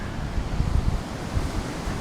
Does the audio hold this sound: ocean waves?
yes